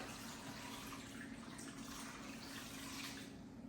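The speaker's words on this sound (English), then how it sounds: "Now all you have to do is cover the chicken with water." Steady rush of water pouring from a tap into a pot over chicken for stock, continuous and fairly loud with no pauses.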